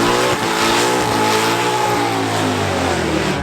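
Loud, sustained engine roar from a 2018 Corvette ZR1 launching at a drag race, a steady high-revving wail with rising harmonic tone holding for several seconds, close and dominant.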